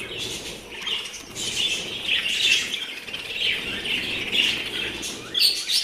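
Pet birds bathing in water chirp and tweet continuously with bursts of fluttering wings and splashing, close by and fairly busy throughout.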